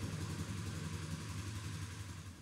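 A Polaris Sportsman 570 6x6 ATV engine running at a steady idle, a low continuous rumble with no pauses or revving, heard close and alone.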